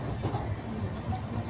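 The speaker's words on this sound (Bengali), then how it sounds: "ট্রেন ছেড়ে দিয়েছে।" Janashatabdi Express train bound for Delhi, pulling away with a steady low rumble and faint rolling rail noise, close by and alone for a short stretch.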